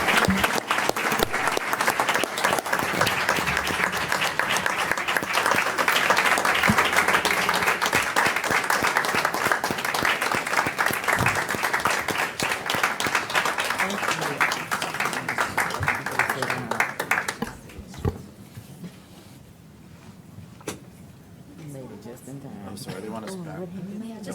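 Audience at a city council meeting applauding in a long, dense round of clapping for about seventeen seconds before it fades, with people talking afterward and a few scattered claps.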